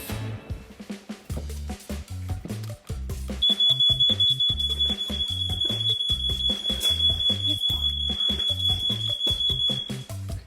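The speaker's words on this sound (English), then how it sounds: "You hold it down and the alarm will go off." A shrill, continuous smoke alarm tone sounds for several seconds over a thumping rhythmic beat playing in the background.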